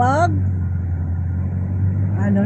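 Street traffic on a busy road leading to the airport, a constant low engine rumble of cars passing close by, with a voice talking over it at the start and end.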